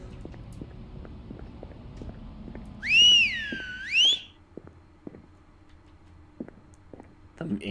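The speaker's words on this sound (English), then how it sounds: "We heard somebody whistle back" In the horror video game Lost in Vivo, a clear two-part whistle rises and falls, loud and alone over a quiet ambience with light ticking footsteps and small knocks around it.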